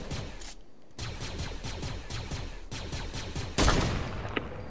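Bursts of gunfire in a Fortnite match, rapid repeated shots in quick clusters with short gaps, one sharper louder blast near the end, fairly close and with no talk over it.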